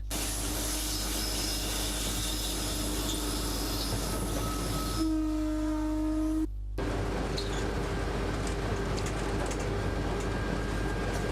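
An Indian passenger train nearing Bangalore rides along with a constant loud, shaky rumble of wheels and carriage. A steady horn-like tone sounds in the middle, then a brief dropout, before the rolling noise carries on.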